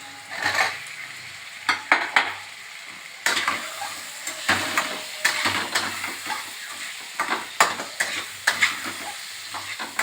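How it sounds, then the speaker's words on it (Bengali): Potatoes fry in hot oil in a pan, a close sizzle punctuated by repeated clattering stirs and scrapes of a spoon against the pan, continuing for about ten seconds without speech. "যখন তেলটা দেখবেন ছেড়ে এসেছে তখন এই আলুগুলো ওর মধ্যে দিয়ে দেবেন"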